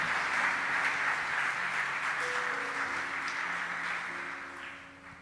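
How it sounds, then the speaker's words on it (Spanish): A church congregation claps during a sermon, a sustained, moderately loud spread of many hands with faint sustained tones underneath, fading gradually toward the end. "Le da un aplauso fuerte a Dios por eso."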